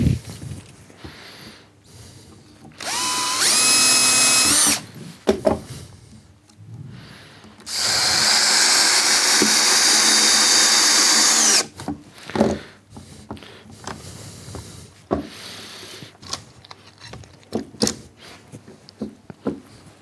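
A power drill driving screws into wood while building a wooden boot rack, with two loud sustained whirring bursts, the motor pitch rising, separated and followed by scraping and knocking of workpieces.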